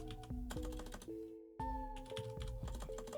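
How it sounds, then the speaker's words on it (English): Rapid keystrokes on a computer keyboard clatter in quick bursts as URLs are typed, close and clear, over a steady tonal background with a brief pause midway and no talk. "typing in URLs"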